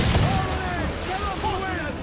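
Ship cannons fire during a naval battle in Assassin's Creed IV Black Flag, with a low boom at the start followed by game sound. Crew voices shout over the action.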